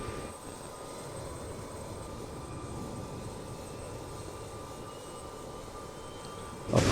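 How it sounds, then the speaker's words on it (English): BAE 146 jet engines spin up in a flight simulator as a steady, broad whooshing drone with a faint high whine on top, unchanging throughout without voices. "let's start the arduous task of turning on all of our engines"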